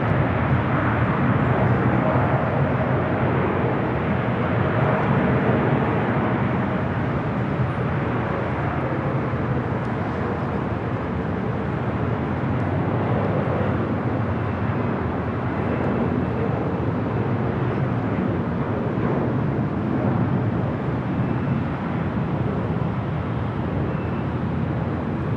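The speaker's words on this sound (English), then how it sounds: "Korean Air Cargo, 777 freighter." Korean Air Cargo Boeing 777 freighter jet at Los Angeles airport, a steady broadband engine roar that holds loud and even throughout with no break.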